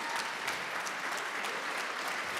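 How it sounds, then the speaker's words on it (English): Audience members clap at a 2022 Georgia PGA awards banquet, a brief burst of steady, even applause from a roomful of people, moderately distant and fairly quiet. "No golf claps, real claps."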